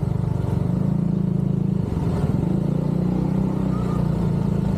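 A motorcycle rides along a road toward Hagdan-Hagdan Falls in Mauban, its engine a steady close droning rumble throughout, with a brief shift in tone midway and no talk.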